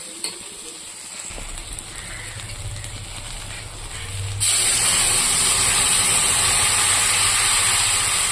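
Tamarind water poured into okra frying with turmeric and salt in a pan; a quiet sizzle suddenly bursts into a loud, steady hiss of steam and spluttering that holds to the end.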